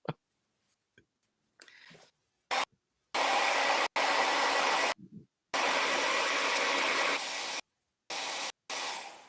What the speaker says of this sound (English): I also use a hair dryer